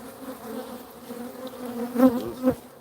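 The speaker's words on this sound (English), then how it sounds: "there's a drone bee walking around there on the end" Honey bees buzz steadily over plastic hive frames, a close, continuous hum with a couple of louder swells as individual bees pass near.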